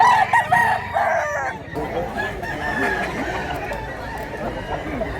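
A rooster crows close by, mixed with clucking from other fowl at a spot where chickens are sold. People talk in the background throughout.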